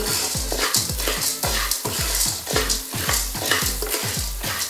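Popcorn kernels are stirred in hot ghee with salt, each stroke a regular rhythmic scrape of the pot over a steady frying hiss. Close and fairly loud, no voices.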